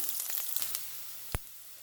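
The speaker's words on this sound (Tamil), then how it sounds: "பச்சை மிளகா போடுறேன் எல்லாம் நல்லா வதங்கட்டும்" Green chillies sauté in a pan for a kovakkai (ivy gourd) dish, a faint soft sizzle with light crackles and one sharp clink midway, brief and quiet, no voices.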